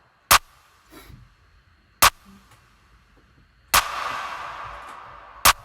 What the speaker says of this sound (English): the first clap will be dry, and then bang, a lot more reverb